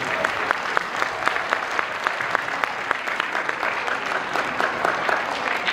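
An audience at a Bengali school's cultural event claps together to mark a twelve-year milestone, with crisp individual hand claps forming steady, moderately loud applause from start to finish.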